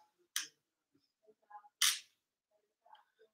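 Two crisp camera shutter clicks from a camera mounted on a tripod, spaced about a second and a half apart, with faint small handling noises between and after them in an otherwise quiet room.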